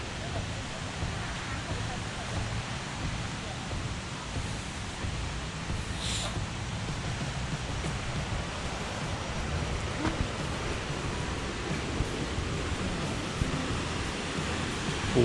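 Huai Suwat waterfall roars as a dense, continuous rush of falling water, loud and unbroken throughout, with a faint brief sound partway through.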